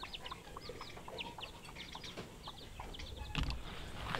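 Free-range hen with three young chicks, giving soft repeated clucks while the chicks peep in short high chirps around her, close by and fairly quiet.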